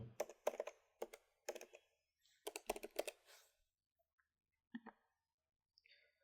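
Typing on a computer keyboard at a desktop PC, heard as short bursts of clustered key clicks separated by pauses, with a few isolated taps toward the end, close and fairly quiet.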